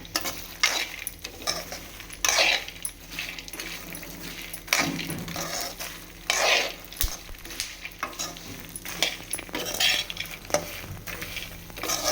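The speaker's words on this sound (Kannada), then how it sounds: "ಮಖಾನ ಸಿಮ್ಮಲ್ಲಿ ಇಟ್ಕೊಂಡು, ಎಲ್ಲ ಸಿಮ್ಮಲ್ಲಿ ಇಟ್ಕೊಂಡೇ ಹುರಿಬೇಕು" Makhana (fox nuts) roast in a pan on a low flame, with repeated stirring strokes and light clinks of the spoon over a soft continuous sizzle, close and clear.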